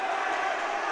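Rowdy crowd roar at a high school varsity hockey game between the Spartans and Minnechaug right after a big hit, a steady, dense wash of cheering voices filling the whole second.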